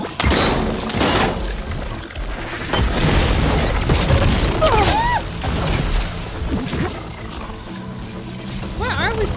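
Deep explosions and roaring machine sounds in Horizon Forbidden West, a plasma-triggered blast rumbling loudly amid game effects, with a person talking over the action.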